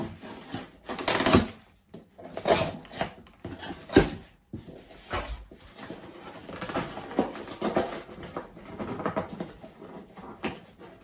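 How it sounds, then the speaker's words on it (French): A cardboard parcel is torn and opened by hand, giving a series of sharp, close rips and crinkles in irregular bursts with brief pauses between them. "Donc, du coup les petits potes, on va ouvrir le colis."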